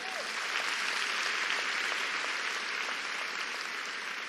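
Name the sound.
audience applauding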